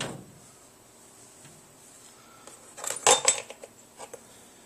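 Metal carburetor parts, a carb cap and float bowl, set down into an ultrasonic cleaner, a short cluster of light metallic clinks and clatters, close, after quiet hum.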